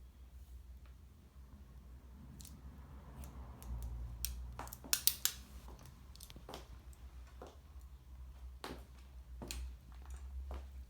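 Scissors snipping hair during a haircut, several quiet sharp clicks and snips scattered over a faint low room hum, with a small cluster of crisper cuts in the middle.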